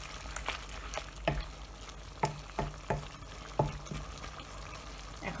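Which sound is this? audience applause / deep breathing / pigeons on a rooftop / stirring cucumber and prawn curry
stirring cucumber and prawn curry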